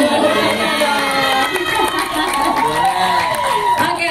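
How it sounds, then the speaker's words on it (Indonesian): A studio audience at a talk show with film cast members cheers and claps loudly in a continuous roar, with shouts and excited voices throughout. "tepuk tangannya jadi buat Jojo Mbak Priestley nih"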